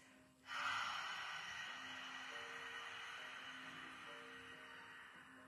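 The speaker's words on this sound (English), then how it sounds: "breathe in through your nose, then open the mouth, make a ha sound as you breathe out" A single Ujjayi yoga breath: a sharp intake followed by a long, breathy, open-mouthed 'ha' exhale that fades slowly, quiet and close.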